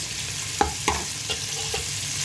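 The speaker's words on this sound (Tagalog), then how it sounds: "Kaya magigisa na tayo ng sibuyas para magagawa tayo ng sauce." Onions sautéing in a pan give a continuous hiss of frying, with a few spatula scrapes and taps against the pan, close and steady, with no talk.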